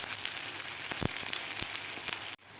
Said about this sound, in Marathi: पाण्याला आपल्या उकळी आलेली आहे